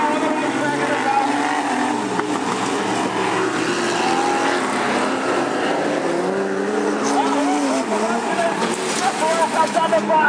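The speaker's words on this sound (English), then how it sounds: "Johnson goes up high on the racetrack in the Falcon" Super Stock race cars, including a Falcon, run a heat race on an oval racetrack, their engines droning steadily and loudly throughout with a commentator talking over them.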